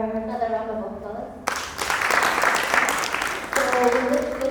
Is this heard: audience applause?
yes